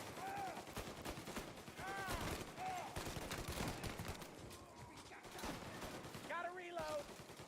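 Rapid bursts of gunfire during a firefight in the Mafia video game, repeated volleys and scattered shots mixed with shouted voices and game effects, dense and continuous at moderate loudness.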